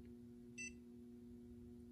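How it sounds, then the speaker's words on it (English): A WiFi remote temperature controller for heating and cooling gives one short, faint electronic beep early on, over a steady low electrical hum in a quiet room. "Why is it beeping?"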